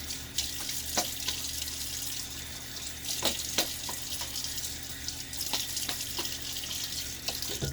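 A faucet runs steadily into a sink while a razor is rinsed during a wet shave, with a constant close water hiss and occasional knocks and splashes against the basin.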